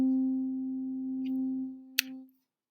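A tone generator sounds a steady, pure sine note C that holds for about two seconds and then stops, with a faint tick partway through and a short click just before it ends.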